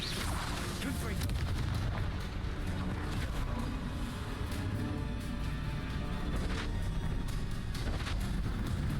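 Fiery blasts from the Confringo spell in Hogwarts Legacy, repeated booming explosions and crackling impacts over a dense rumbling battle din, with a voice talking throughout.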